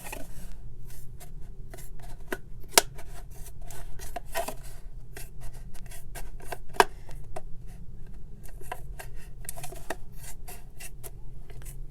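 Scissors cut around a plastic bottle, a string of sharp snips and crunches at an irregular pace, close and moderately loud, over a low background hum.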